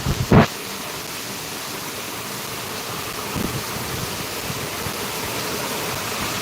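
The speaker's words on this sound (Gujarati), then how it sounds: "આ રીતે કંઈક વરસાદ પડ્યો છે ફૂલ વરસાદ આવી રહ્યો છે" Heavy monsoon rain pours steadily in Amreli, a dense, even hiss that fills the whole scene, with a brief loud bump right at the start.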